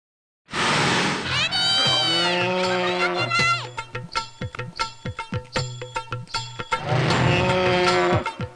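A buffalo gives a long, loud, drawn-out moo, followed by a stretch of clattering knocks and scrapes before a second extended bellowing call, all close by.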